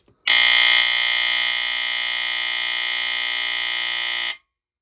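A loud, piercing Firex FX1014 smoke alarm sounds during a test in one continuous tone for about four seconds, then cuts off abruptly.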